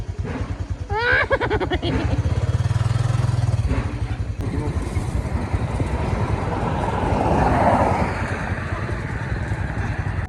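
A motorcycle engine warms up, its idle chugging as a rapid, rhythmic low pulse. The note swells briefly as it is revved, then settles back to a close, steady putter.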